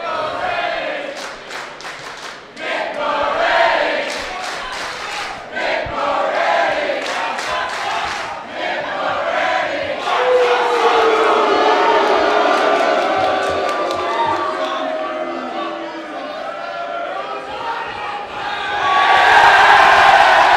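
A wrestling crowd at a 4 Nations vs The Velocities match loudly boos Jack Bonza and cheers Mick Moretti, a dense continuous roar with shouts and whistles that swells again near the end.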